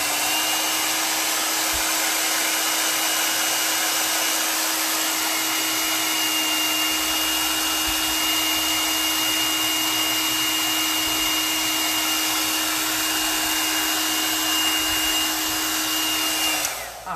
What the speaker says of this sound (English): I'm going to be using my blow dryer again.